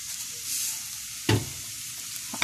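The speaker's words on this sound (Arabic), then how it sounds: "هقلبها" A spoon stirs rice and yellow lentils for koshary in a pot over a soft, steady sizzle, with one clear scrape-and-clack near the middle and a fainter one at the end.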